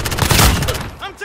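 Close, loud burst of rapid gunfire in Call of Duty: Modern Warfare (2019), with a heavy boom and fast crackling shots that quickly fade, followed by a brief voice.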